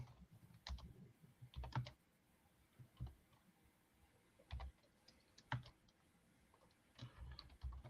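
Computer keyboard typing in bursts of quick clicks and clacks with pauses between them, fairly close and moderately loud over a low background hum.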